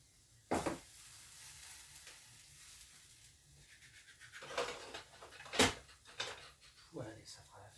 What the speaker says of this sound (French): Il faut bien touiller pour pas que les pâtes elles collent au fond de la casserole